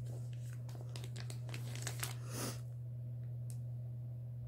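Paper torn by hand along a perforated line, a run of close crinkling, ripping bursts over a steady low mains hum, then quieter after a final tear, with no voices.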